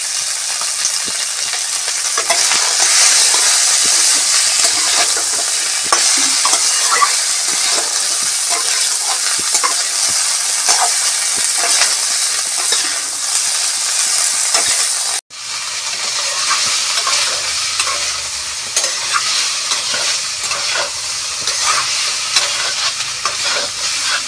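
Cauliflower fries with salt and turmeric in a hot pan, a loud, continuous sizzle and hiss with steady stirring scrapes that runs without pause, briefly cutting out once before resuming just as strongly.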